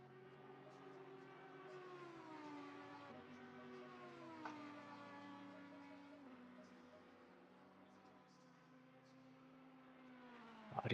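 Race car engine in the racing game Assetto Corsa Competizione, a sustained high-pitched harmonic whine that rises and falls with revs as the car speeds on track, fairly faint and steady, with voices talking over it.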